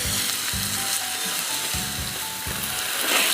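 Tomato pieces sauté in hot oil for masala rice, a constant bright sizzle broken by a few rhythmic scraping stirs of the pan, close and without speech.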